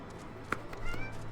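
A house cat gives a brief, faint meow against soft background noise, a single short call with no talk over it.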